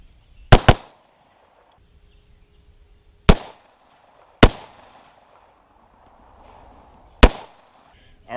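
.223 rifle with a muzzle brake firing four sharp, loud outdoor gunshots, the first two close together and the rest spaced a few seconds apart, with brief echoing decay.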